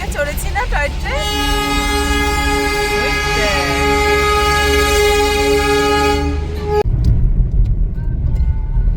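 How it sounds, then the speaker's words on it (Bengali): A toy train running through the hills sounds a long, steady horn blast lasting about five seconds over a low rumble of the moving cars, and voices talk nearby. "এই দেখো ট্রেন চলছে"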